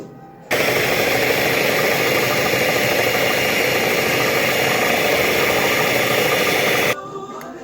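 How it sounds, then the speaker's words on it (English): An electric mixer creams melted butter and sugar for a Jamaican fruit cake, switching on abruptly and running at a loud, steady whir for about six seconds before cutting off, with no talk over it. "While the butter and sugar is being creamed"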